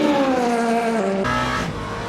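Race car engine in Le Mans Ultimate, a loud close drone with clear harmonic whine that steps down in pitch as the car slows, running continuously.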